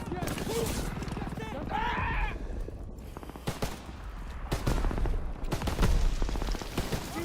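Rapid gunfire crackles through a WWII video game battle in bursts and volleys, mixed with shouting players talking over the shots and other in-game clatter.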